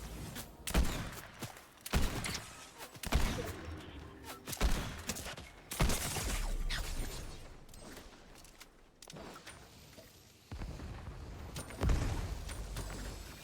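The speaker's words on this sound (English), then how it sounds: "This is not a shotgun. It's like an explosive rifle" Explosive rifle firing heavy ammo in Fortnite, a series of sharp booming shots spaced about a second apart with thudding impacts, fairly loud over a busy game background.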